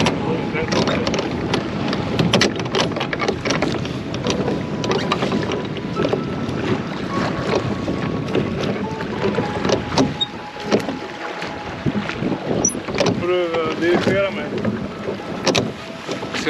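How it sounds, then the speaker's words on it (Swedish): Small boat on a mountain lake along the Kungsleden trail in Swedish Lapland, with steady water and motor-like rumble, wind buffeting the microphone, and people talking over it throughout. "Vi ska åka i den här båten."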